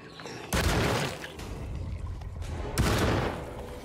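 Gunfire in the survival horror game Alone in the Dark: two loud, close blasts about two seconds apart, each followed by a long, rumbling decay that fills the gap between them.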